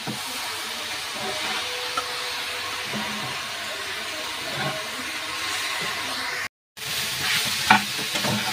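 Grated coconut fries in a pan and is stirred, with a steady hiss broken by occasional scrapes. A brief dropout of total silence comes near the end, then the sizzle resumes.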